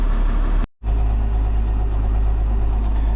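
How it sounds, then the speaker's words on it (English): A tractor's L10 engine idles steadily with a loud, constant low rumble, briefly cutting out for a split second before running on, close by and alone. "Good old faithful L10. Love this tractor, love this engine."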